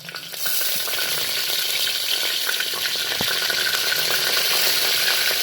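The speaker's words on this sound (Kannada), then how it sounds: "ಈಗ ನಾ ಎಣ್ಣೆ ಒಳಗೆ ಫಸ್ಟ್ ಜೀರಿಗೆ ಮತ್ತು ಸಾಸಿವೆ ಹಾಕ್ಕೊತೀನಿ ಅದಕ್ಕೆ ಸ್ವಲ್ಪ ಚಟ್ಪಟ್" Cumin, mustard seeds and curry leaves sizzling in hot oil for a Udupi-style sambar tempering, a loud, steady close crackle that starts suddenly and keeps going with faint popping, no talking.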